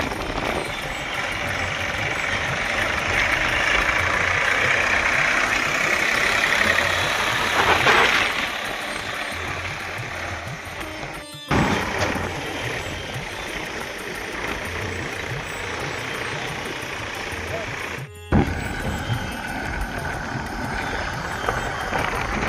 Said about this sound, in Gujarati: આપણે ટ્રેક્ટર લઈને હવે આપણે ચલાવ્યું ટ્રેક્ટર